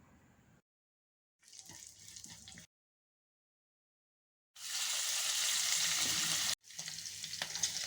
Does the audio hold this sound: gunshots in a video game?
no